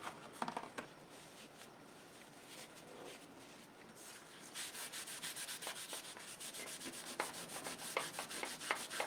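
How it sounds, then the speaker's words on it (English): Green wax is rubbed by hand onto a stone-paste craft surface, producing soft, faint scratchy rubbing strokes that grow more rhythmic and dense toward the end. "You don't have to rub too hard."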